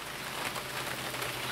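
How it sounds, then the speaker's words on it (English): Rain from a passing thunderstorm hisses steadily, a dense, even patter on surfaces that runs with no break, with no talking. "there's a thunderstorm passing by at the same time"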